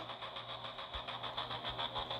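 A stripped-down CG motorcycle with only an exhaust pipe runs in the Elite Motos 2 video game, a steady, quiet buzzing engine drone with a constant high whine and occasional low pulses.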